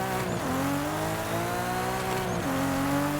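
A Class 2 race car engine drones nearby at high revs, its pitch dropping sharply twice as gears shift, with a faint tire squeal.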